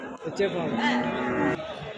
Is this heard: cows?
yes